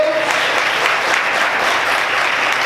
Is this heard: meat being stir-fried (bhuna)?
no